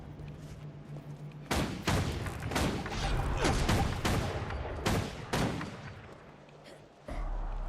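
Rifle fire in a video game, a series of sharp loud shots in irregular bursts, some closely spaced and some with brief pauses, each with a booming tail.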